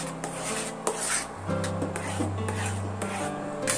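A spoon stirs a mango phirni mixture of ripe mango in a pot, scraping and rubbing against the metal in repeated strokes over a low hum, close and moderately loud, with no talking.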